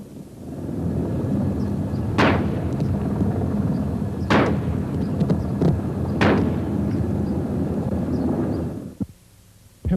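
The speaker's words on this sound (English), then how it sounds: "Officers, maintaining their distance, returned fire with shotguns and handguns." Several gunshots ring out amid sustained rumbling noise, with three loud sharp reports spaced about two seconds apart over continuous dense background din, as officers return fire with shotguns and handguns against a gunman with an assault rifle.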